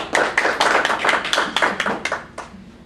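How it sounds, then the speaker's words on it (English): A small audience at an alumni reading claps briefly, a close burst of hand claps that thins out and fades within about three seconds. "let's a round of applause"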